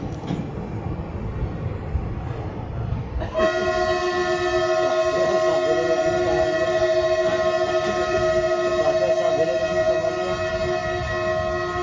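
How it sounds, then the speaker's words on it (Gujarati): A train pulls in at platform 2 at Hapa station, its rumble building before a loud, sustained horn blast sounds nearby and holds steady for several seconds. "હાપાના પ્લેટફોર્મ નંબર 2 ઉપર ગાડી આવી છે."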